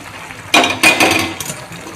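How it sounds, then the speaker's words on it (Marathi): Hot water poured into a pan of vegetable curry, a loud splashing gush that starts abruptly, surges twice and trails off into a softer trickle, close by with no talk. "आता याच्यामध्ये गरम पाणी टाकत आहे"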